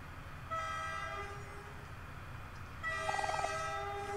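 A train pulling into a stop in the video game Omori, with a steady rolling rumble, a sustained horn tone that fades and then sounds again louder near the end, joined by a brief fluttering chime.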